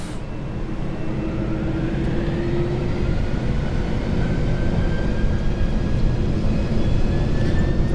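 A heavy Boeing 747-400F cargo jet with its engines spooling to takeoff thrust, a dense, loud, steady roar with a rising whine building over several seconds, heard from inside the aircraft.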